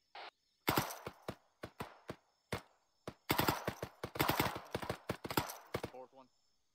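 Sharp gunshots in a military combat patrol video game ring out in irregular bursts, single cracks and rapid strings with decaying echo, loud and close, with brief gaps between volleys.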